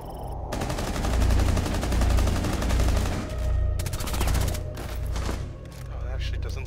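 Gunfire from the video game Rainbow Six Siege in a Park TDM Secure match on the Wind Bastion map, rapid bursts of automatic shots rattling loud and close over a continuous low rumble, with a few sharper cracks toward the end.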